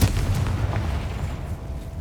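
Confringo blasting spell in the Hogwarts Legacy video game, a single heavy, booming explosion that hits at once and rumbles away over two seconds.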